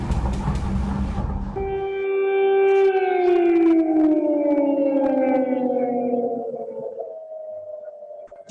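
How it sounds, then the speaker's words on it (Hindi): An air raid siren wails over Kyiv, a single long tone that swells and then slowly slides downward in pitch, loud and steady after a brief burst of rough noise at the start. "ये लगातार सायरन इस बात की इंडिकेशन है कि एयर रेड की संभावना है या मिसाइल रेड की संभावना है कीव के ऊपर"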